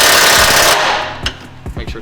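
A heavy-duty impact gun drives an 18mm bolt into a coilover on a Ford Focus ST, a loud rapid hammering burst that cuts off, followed by a few short sharp clanks and knocks.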